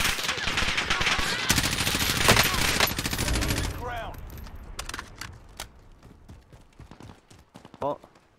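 M4 rifle fire in the video game Call of Duty Warzone: rapid loud automatic bursts for several seconds, followed by sparser single shots and short bursts fading in intensity.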